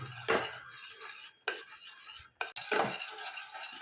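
Milk being stirred into a pasta sauce to break up lumps, with a utensil scraping and clinking against the pan in steady strokes broken by short pauses, close and fairly quiet, no talking.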